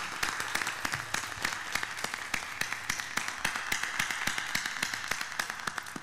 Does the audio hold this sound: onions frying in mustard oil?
no